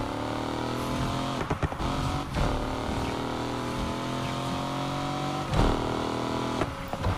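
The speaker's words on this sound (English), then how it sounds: "I love the sound of this car" A car engine in the racing game Need for Speed Unbound drones steadily with harmonic revving and some gear-shift dips, loud and continuous, with music-like layers in the mix.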